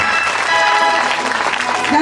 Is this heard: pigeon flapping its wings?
no